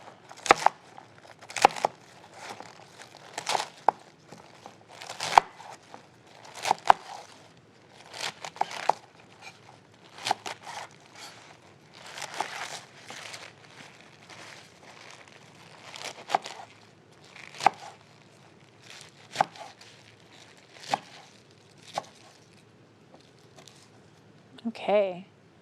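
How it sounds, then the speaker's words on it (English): Swiss chard cut with a knife on a board, giving a series of crisp, irregular chopping and crunching strokes close by, with quiet gaps between bursts; no voices. "And so I'm just going to chop this up."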